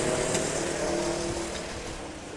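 Several racing karts run together on the Monza circuit, a steady loud buzzing engine drone with overlapping motor tones held throughout and easing slightly toward the end.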